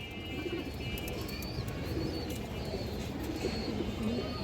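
Pigeons kept in a coop for sale in Bangladesh coo continuously, a soft, steady murmur with faint chirps and an occasional wing flap, close by and with no talk over it.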